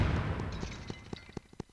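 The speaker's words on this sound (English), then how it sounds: "We hear nothing but footsteps and then the explosions of these little toy robots." Little toy robots in Mystical Ninja Starring Goemon blow up in a creepy old tunnel: one loud boom fading out, then a handful of short sharp pops spaced at roughly regular intervals.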